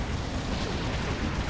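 A big explosion in the real-time strategy game Dawn of War Unification, during a 1 vs 1 Demon Hunters versus Thousand Sons match, heard as a sustained, dense, roaring blast that fills the whole moment loudly.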